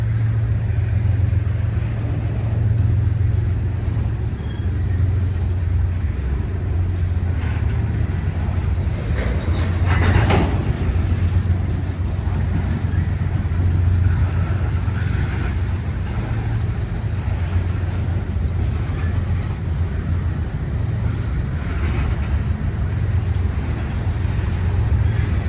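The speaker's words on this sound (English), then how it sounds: "Very loud DPU set here, and or is it on the end?" A Norfolk Southern freight train rolls past at Elm Street in Greensboro, North Carolina, with a loud distributed-power locomotive producing a heavy, steady low rumble that holds throughout, with brief metallic flares midway.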